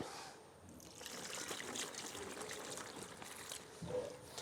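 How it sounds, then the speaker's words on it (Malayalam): Rice water poured over wet dry leaves packed in a sack, a steady soft trickling and splashing that runs throughout at low volume, with no talk over it. "ബാക്കി കുറച്ചും കൂടെ നമുക്ക് കഞ്ഞിവെള്ളം ഒഴിച്ചു കൊടുക്കാം"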